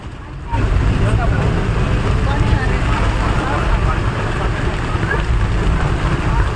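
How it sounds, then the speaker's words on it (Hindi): Very heavy rain pours during a jungle safari drive in Jim Corbett's Dhikala zone, a loud, steady, hissing downpour that starts abruptly and then roars on without letup. "बहुत तेज बारिश है,"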